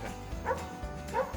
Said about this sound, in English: so that dog doesn't keep barking